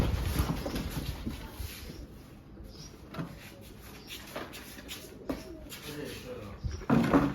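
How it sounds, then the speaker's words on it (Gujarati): Pigeons caught and held in a box coo softly at close range, mixed with faint rustling and a few knocks from the container, while a person talks over them. "જુઓ તમે એટલા કબૂતર છે આમાં."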